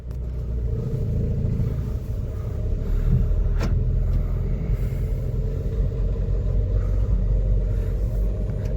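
Renault Lodgy MPV being driven smoothly on the road, heard from inside as a steady low engine and road rumble with a faint higher whine, continuous and fairly loud throughout, with no talking.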